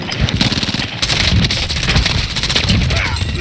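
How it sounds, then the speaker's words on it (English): Intense gunfire in Call of Duty Warzone, dense overlapping bursts of rifle and machine-gun shots crackling continuously and loudly, with game voice callouts mixed in. "Enemy soldiers. Fire. I am under fire."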